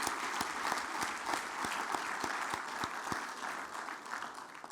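Sustained applause from a convention audience honouring air cargo workers and flight crews at an aviation stakeholders' opening ceremony, a steady dense wash of clapping with sharp individual claps standing out, fairly loud and continuous.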